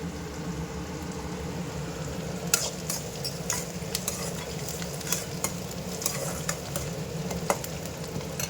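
Food frying and browning in a pan during a Tamil home-cooking session making Bombay chutney, a steady close sizzle with occasional stirring clinks and scrapes, no talking.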